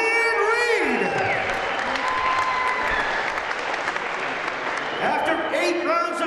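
Loud crowd applause and cheering for two women boxers after a bout at a boxing event, with whoops and shouts over the clapping and an announcer's voice under the noise.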